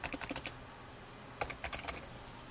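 Two short bursts of quick keystrokes on a computer keyboard, close but quiet, separated by a brief pause in an otherwise still room.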